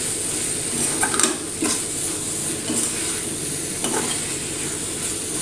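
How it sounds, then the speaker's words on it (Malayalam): Fenugreek greens and boiled potato stirred together in a pan, a low steady sizzle broken by repeated scraping strokes of a spoon against the metal, close and fairly loud. "ഇനി കുറച്ച് നേരം നന്നായിട്ടൊന്ന് ഇതേപോലെ മിക്സ് ചെയ്തെടുക്കാം"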